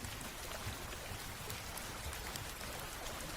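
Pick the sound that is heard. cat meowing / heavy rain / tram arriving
heavy rain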